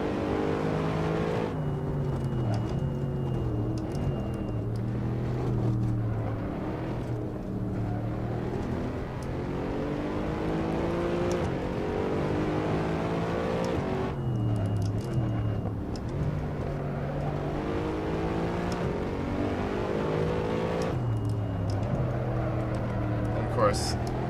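Mercedes SLS AMG engine at full throttle in the racing game Assetto Corsa, a loud continuous roar whose pitch climbs steadily through each gear, cut by brief dips at the shifts, then climbs again, with a voice talking over it throughout.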